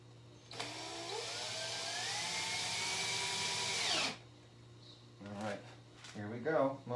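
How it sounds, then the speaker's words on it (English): A power drill bores a hole into a wooden bench, whining loudly and steadily for about three and a half seconds with slight pitch shifts, then stops, followed by brief speech and handling noises. "And I'm going to make my first drill hole."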